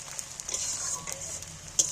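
Onions frying in oil in a pan, with a soft continuous sizzle and a few light stirring scrapes, close up and fairly quiet with no talk.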